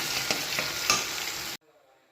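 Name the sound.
sautéing onions in hot oil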